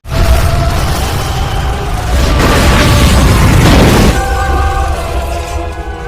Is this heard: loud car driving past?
no